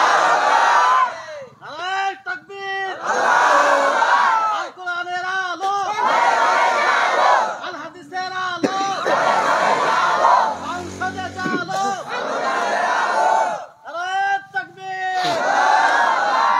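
A large crowd chants the takbir Allahu Akbar in loud repeated unison shouts at a political gathering, the call and response surging in waves with voices between, close and powerful.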